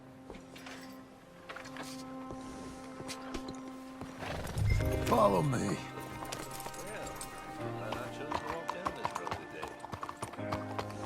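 Horse hooves clip-clopping in a Red Dead Redemption 2 game scene, a brief burst of close hoof beats and a whinny amid game ambience, with a voice talking over it.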